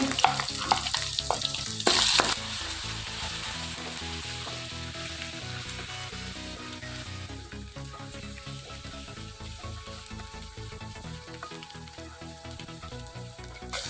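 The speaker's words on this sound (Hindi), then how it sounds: "प्याज हमारा ब्राउन हो गया है। इसमें अदरक लहसुन का पेस्ट शामिल कर देंगे।" Ginger garlic paste hits browned onions in a hot pan, a loud burst of sizzling with stirring clatter that settles into a steady frying hiss, no voices.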